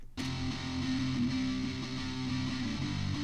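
Thin, tinny distorted electric guitar track from a pop punk mix played back: a dense, steady strummed drone beginning abruptly and holding at an even level, bright and narrow with little low end, alone.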